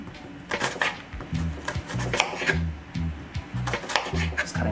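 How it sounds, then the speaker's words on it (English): Knife slicing onion into small pieces on a cutting board while making chicken coconut garlic soup, a run of close, crisp rhythmic chops, some in quick clusters, with short pauses between strokes. "Just cutting little slices."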